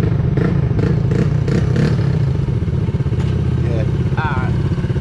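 A motorcycle engine runs and revs close by before a ride with friends over Memorial Day weekend, a loud, throbbing, rattly mechanical rumble that continues under people talking.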